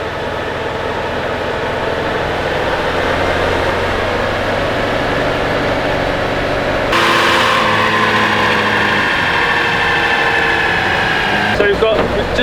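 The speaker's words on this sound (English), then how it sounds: "we're going to be third gear, 60 miles an hour, get the engine nice and hot" A campervan engine runs steadily in third gear at around 60 mph on a rolling road dyno, a loud continuous drone with a shift to a higher, stronger pitch partway through.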